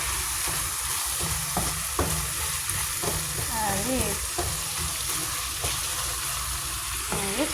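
Tomato, onion and garlic fry together in a pan with a constant loud hiss and crackle, punctuated by repeated spatula scrapes and taps, close up and without speech.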